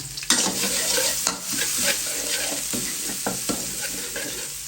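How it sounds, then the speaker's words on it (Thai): Garlic frying in hot oil, a steady loud sizzle with scraping stir strokes of a utensil against the pan, close up with no talking. "มันร้อนแล้วใส่กระเทียมลงไป"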